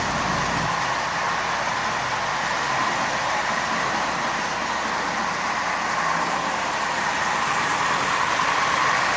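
A repainted Marx 799 toy diesel locomotive with handrails runs along its track, giving off a continuous close whirring, rattling drone that stays steady throughout with no talking.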